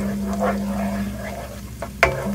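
Garlic and ginger frying in a pan, a soft continuous sizzle with faint stirring scrapes and a sharper clack near the end, over a low kitchen hum.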